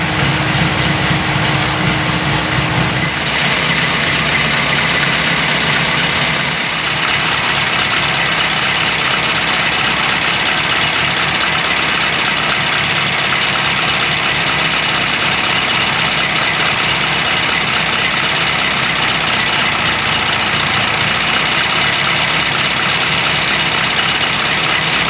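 On a rolling road after ignition tuning, a car engine idles steadily, with a loud, even rumble throughout and a slight shift in tone a few seconds in. No one speaks.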